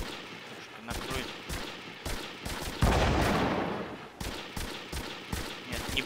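Repeated gunfire bursts in a mountain-trail shooter game, sharp shots and rapid volleys punctuating a steady background, with a sustained blast-like roar midway.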